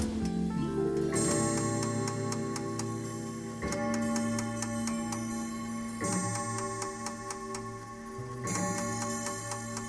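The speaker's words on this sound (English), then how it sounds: "the sound of a distant clock ticking breaks the silence" A steady mechanical ticking keeps a regular beat throughout, set against a dense musical backdrop, with no voices.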